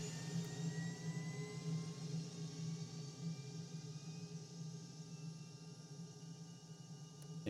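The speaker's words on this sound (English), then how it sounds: "Let's go ahead and hit the APU. Oh, that's coming on." The auxiliary power unit of an F-117A Nighthawk stealth jet spools up in a flight simulator, a steady, quiet turbine whir and hum holding throughout with faint rising whines and no talking.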